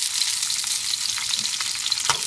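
Shallots, garlic and a quartered tomato frying in sesame oil for a horsegram chutney make a loud, steady, close sizzle that crackles throughout the short stretch.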